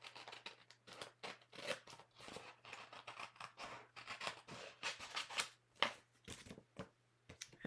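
Scissors snip repeatedly through excess paper or card during a papercraft project, a busy run of crisp close cuts and rustles with a steady low hum underneath.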